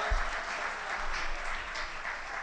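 An audience at a church concert applauds a singer, a dense, steady patter of many hands clapping for a few seconds.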